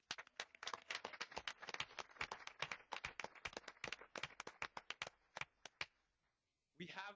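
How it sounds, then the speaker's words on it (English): Audience applause for Alvin High School at a gathering, a quiet, sparse room of individual claps that thins out and stops, followed by a short spoken voice at the end. "How about a round of applause for Alvin High School?"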